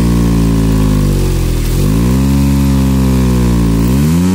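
A Maruti Alto 800 engine revs hard with the accelerator pedal pressed fully to the floor, a loud, close, continuous drone whose pitch dips and climbs again through the stretch.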